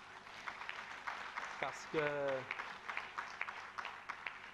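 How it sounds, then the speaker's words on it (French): Audience applause at a party congress, a steady patter of clapping running under someone talking close by. "je vais quand même demander qu'on applaudisse à nouveau pour lui"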